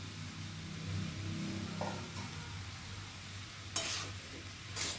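Cabbage with fried hilsa fish heads is stirred in a pan, a low, quiet sizzle with a few scraping and clattering strokes near the end, no voices.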